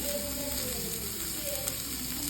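Onion, tomato, garlic and green chilli sauté in oil with a soft, even background sizzle and a faint clink, no talking over it.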